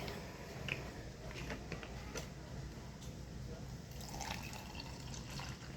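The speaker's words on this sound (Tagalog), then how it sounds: "lagyan natin ng tubig" Water is poured from a container into a cup holding a collagen drink mix, a quiet trickle with small drips and liquid splashes heard close up against low background noise.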